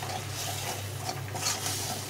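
Duck egg curry masala with turmeric and chili powder being stirred and sautéed in a pan, a soft, steady scraping and low sizzle with faint spoon strokes, close and quiet, with no talk.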